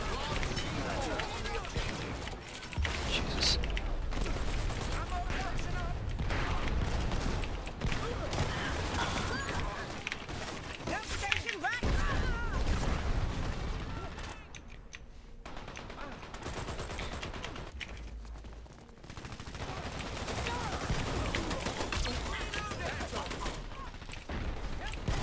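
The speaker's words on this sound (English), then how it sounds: "Why is that guy completely fucking accurate with that machine pistol?" Rapid machine pistol bursts from the Dirty Bomb online shooter crackle through a dense, loud battle mix, with repeated gunfire volleys and running footsteps over most of the stretch and brief quieter gaps in between.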